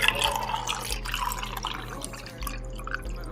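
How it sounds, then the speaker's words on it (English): Juice pours from a container into a bottle, a steady liquid trickle and splash with dripping, close and fairly loud, with no talking. "We're gonna pour this in there."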